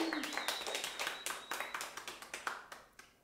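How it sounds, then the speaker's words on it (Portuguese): Scattered clapping for a woman named Bruna Costa at a live event in Porto, Portugal: a dozen or so sharp individual claps in an irregular rhythm, with a voice heard early on. "salva de palmas para Bruna"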